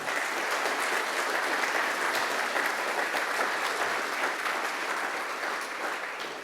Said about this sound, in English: let's give a big round of applause to them, all of them